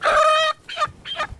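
A chicken clucks close by in a backyard coop setting, one long loud squawk followed by two shorter clucks.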